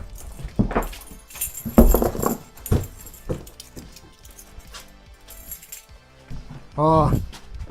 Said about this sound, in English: Oh wait, I found my keys